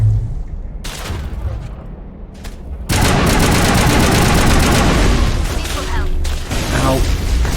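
Sustained automatic assault rifle fire in the Mass Effect video game, dense rapid bursts that jump to loud, continuous gunfire after a quieter opening with scattered shots, with no voices.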